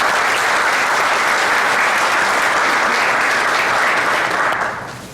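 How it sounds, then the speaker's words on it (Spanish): An indoor audience at a technical presentation on Cummins sensors and actuators gives a dense, sustained round of clapping for about five seconds, which fades quickly at the end. "Un aplauso para él."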